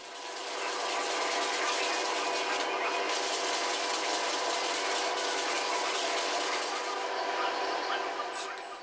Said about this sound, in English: And a final bit of sanding.